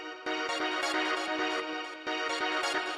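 A synth string stab from a rave techno track, a bright sustained chord repeating with an eighth-note echo delay, the repeats cutting in rhythmically and running continuously, loud and close with no talk.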